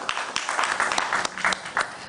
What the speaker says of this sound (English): A round of applause for Prof, please.